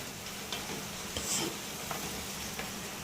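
Onions and green chillies frying in a pan give a gentle, steady sizzle with light ticking pops and a few soft stirring scrapes, quiet and close.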